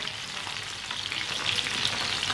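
White kebabs frying on a tawa griddle give a steady, close, dense sizzle with faint crackles throughout, and no voices.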